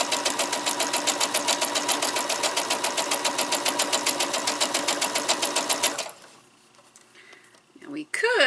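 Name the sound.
sewing machine stitching quilt pieces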